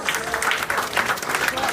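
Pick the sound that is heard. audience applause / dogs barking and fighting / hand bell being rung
audience applause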